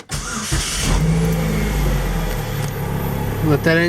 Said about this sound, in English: Get that engine running.